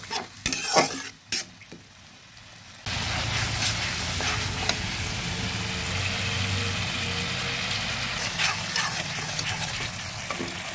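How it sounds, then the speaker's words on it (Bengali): Spice paste with chili powder and a splash of water fries loudly in a pan, with a steady sizzle from about three seconds on, preceded by a few stirring clatters and scrapes. "মশলাটা ভালো মতো ভেজে নিয়েছি।"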